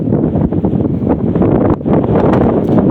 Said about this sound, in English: Windy as can be, real windy.